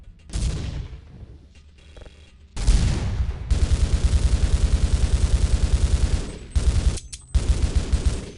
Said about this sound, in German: Noch mehr Granaten schiessen.